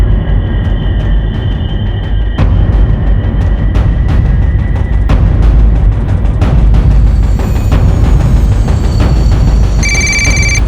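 A telephone rings repeatedly in loud, regular bursts, with clicks and background noise between the rings.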